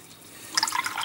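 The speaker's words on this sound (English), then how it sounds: "rinse my brush out" A paintbrush swished and rinsed in a pot of water between colours while painting a miniature, a short burst of close, light splashing and dripping after a quiet start.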